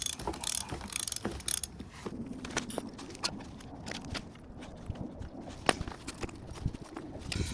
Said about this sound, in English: You hold the shock absorber firmly and loosen the nut with controlled pulling movements.